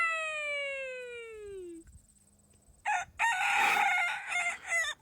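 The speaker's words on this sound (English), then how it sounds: "Binu's a chicken." A pet chicken named Binu crows a long descending call, then after a short lull breaks into loud, close, raspy clucking and squawking bursts.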